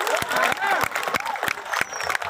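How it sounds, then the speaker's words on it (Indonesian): Audience clapping at a Balinese Calonarang temple performance at Pura Samuan Tiga in Bedulu, Gianyar, a steady patter of many hands with crowd noise, close and fairly loud, broken by sharp percussive hits. "Tepuk tangan dumun mantuk generasi muda."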